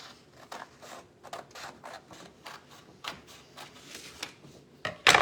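Scissors cutting a folded sheet of paper in half for a pop-up turkey card, a run of short crisp snips in uneven rhythm, close and fairly quiet, ending with a louder rustle of the paper.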